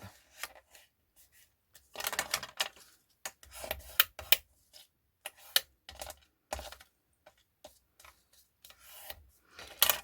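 Paper being creased and folded on an envelope punch board, a series of short crisp rustles and taps in irregular bursts, close and moderately loud, with no talking.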